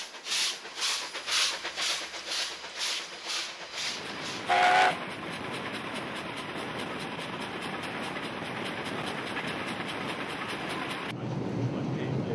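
A steam train on a heritage tour line chuffs past with rhythmic exhaust beats, then a brief whistle sounds, followed by a long steady rumble of rolling carriages at moderate distance.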